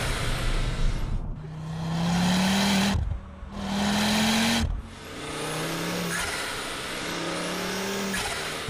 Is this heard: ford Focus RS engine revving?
yes